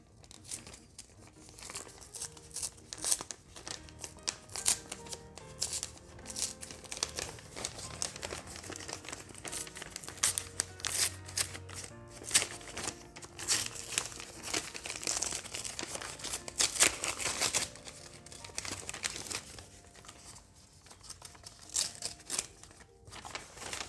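Hands unwrapping a fragile collectible Tintin package, with continuous close crinkling and crumpling of wrapping plus occasional tearing, sometimes busy and sometimes quieter, and no one talking.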